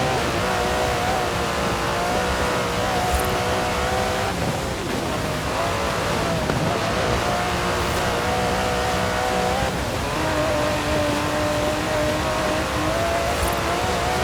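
An Aston Martin DB11 with its 5.2-litre twin-turbo V12 roars steadily in the video game Forza Horizon 4. The engine holds a loud, sustained drone with brief dips and swells in pitch as it shifts and revs, and no voices are heard.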